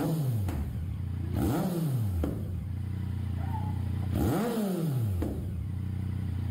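A motorcycle engine revs up and drops back twice in a few seconds, each throttle blip rising sharply then falling, with a steady idle between revs and faint clatter in the background.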